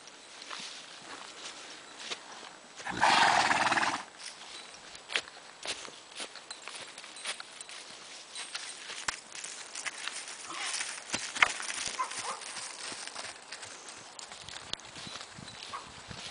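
A horse walking outdoors with hooves clip-clopping in a steady, uneven patter, fairly near, with a brief louder burst of rustle or movement early on and no speech.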